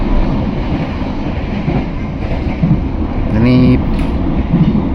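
The KA Motis passenger train runs along rails at speed, with a loud, steady rumbling roar and a brief metallic squeal partway through, while a person speaks over it.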